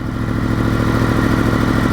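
A Yamaha FZ-10 motorcycle with a Scorpion exhaust runs with a steady, throbbing engine rumble, loud and continuous, with no talking.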